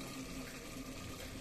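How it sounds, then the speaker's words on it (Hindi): Water poured from about half a glass into a pot of chicken curry cooking at home, a steady close splashing pour that lasts the whole moment with no talking. "अब हम दोस्तों इसमें पानी थोड़ा सा ऐड करेंगे"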